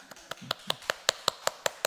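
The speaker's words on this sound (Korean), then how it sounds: "박수 한번 하겠습니다." A church congregation at a Wednesday worship service claps in time, with about ten evenly spaced, sharp claps in a steady rhythm, moderately close and alone without talk.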